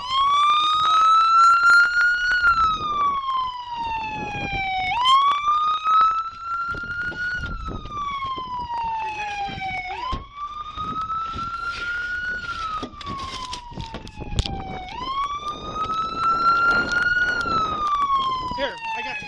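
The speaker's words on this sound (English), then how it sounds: "Turn that siren off." A loud police car siren wails, sweeping up and down in long, repeating cycles, close by and continuous, with faint voices and noise underneath during a Brooklyn arrest.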